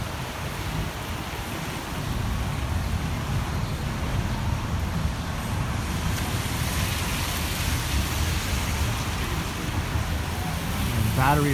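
Steady rain falls on a downtown Toronto street, closed Yonge Street, as a continuous broadband hiss and patter that holds at an even level throughout and swells slightly near the end.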